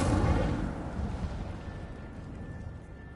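Incendio fire spell cast in Hogwarts Legacy, a loud blast that opens the moment and rolls off into a fading crackling rumble, with a faint thin tone lingering underneath.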